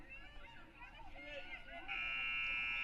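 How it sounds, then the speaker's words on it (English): A buzzer ends the first half of a girls lacrosse game between Pequannock and Jefferson, a steady electronic tone entering near the end and holding loud over the announcer's voice and crowd noise. "the buzzer will sound"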